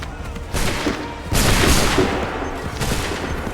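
A volley of musket fire from a line of soldiers in Assassin's Creed 3 Remastered bursts out as a dense, crackling wall of shots, first a smaller burst then a louder, sustained roar that slowly rolls off.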